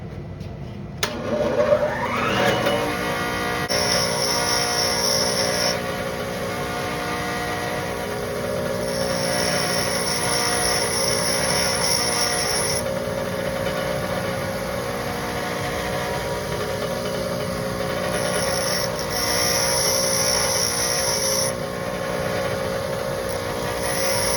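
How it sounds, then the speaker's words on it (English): Bench grinder spins up with a rising whine, then runs steadily while a drill bit is sharpened against the wheel, with intermittent higher-pitched grinding bursts as the bit makes contact, loud and close with no talking. "I'm going to try to grind it intentionally a little bit wrong."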